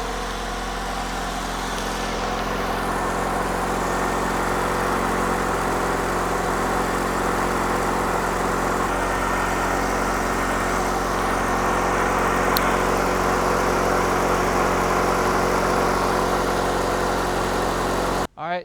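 A 1990s Honda engine runs steadily at idle while its ignition timing is checked with a timing light, giving a continuous, even drone close by that cuts off abruptly at the very end.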